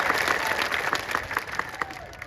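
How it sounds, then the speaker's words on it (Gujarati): A crowd at a political rally in Gujarat claps to welcome a speaker, giving steady, dense applause that slowly thins out, with a voice talking faintly over it. "આપણે એમને જોરદાર તાળીઓના ગણગણાટથી એમનું સ્વાગત કરી"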